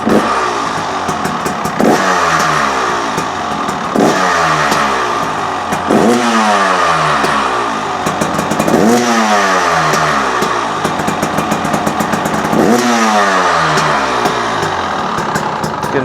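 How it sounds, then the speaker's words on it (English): A 2024 KTM 300 XCW two-stroke dirt bike engine revs repeatedly inside an enclosure, loud and close, with about five sharp throttle blips rising and falling over a steady running note, no talk. "I'm just going to give it a couple revs."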